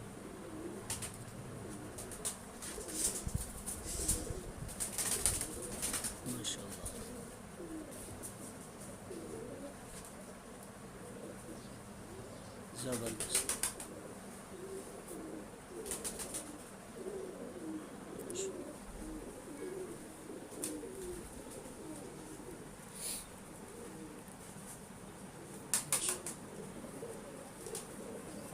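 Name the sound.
Bausa breed pigeons cooing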